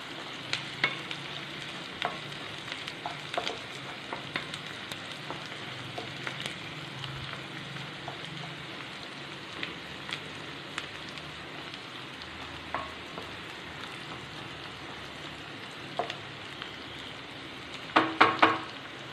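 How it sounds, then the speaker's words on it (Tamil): Onions sautéing in a pan until golden for a citron pachadi, a steady soft sizzle running throughout with light occasional stirring scrapes and a few louder clatters near the end, close and quiet, no talk. "வெங்காயம் வந்து பொன்னிறமா வதங்கிட்டு"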